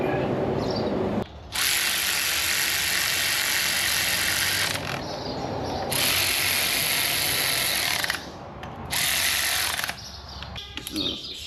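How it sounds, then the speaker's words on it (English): A specialized torque wrench ratcheting in long, loud, continuous runs of rapid clicking, broken by short pauses, close up with no talk. "This is a specialized torque wrench. You can hear it click like."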